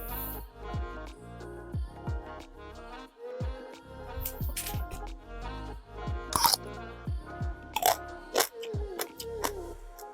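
Crunchy bites into fresh homegrown cucamelons, with several crisp, close crunches followed by wet chewing over a quiet backdrop of a soft, sustained tone.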